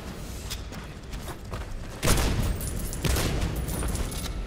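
Gunshots in the game Soul Slinger Envoy of Death, a loud burst of booming shots with a sharp thump near the middle, over a steady game background.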